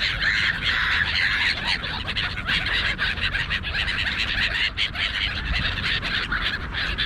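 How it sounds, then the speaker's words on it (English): Silver gulls call on a foggy shore, a dense, continuous chorus of overlapping squawks and cries, some close and loud, others farther off, with no talk over them. "And so are the silver gulls."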